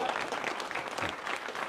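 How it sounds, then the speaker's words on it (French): Warm audience applause at a municipal election campaign list launch in Châlons, a brief, dense burst of many hands clapping at moderate distance. "donc Benoît Apparu, qu'on peut applaudir très chaleureusement"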